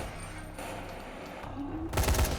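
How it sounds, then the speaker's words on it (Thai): In the video game Dying Light, a short burst of rapid gunfire erupts near the end over a dense game soundscape, loud and close. "ยิงให้เข้าหัวนะครับ"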